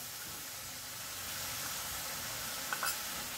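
Homemade masala with chilli powder frying in oil in a pan for egg masala, a steady broadband sizzle throughout with a couple of faint stirring scrapes near the end.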